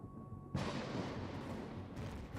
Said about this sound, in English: I'm hearing things explode.